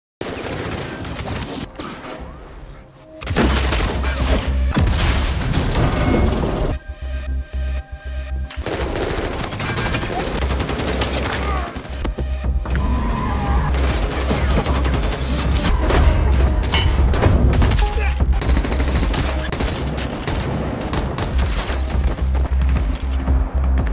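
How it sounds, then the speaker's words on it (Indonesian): Sustained gunfire in an action film fight, with machine-gun bursts and booming blasts layered into a dense, loud, continuous barrage lasting the whole stretch with no talking. "sehingga terjadilah aksi baku tembak sengit"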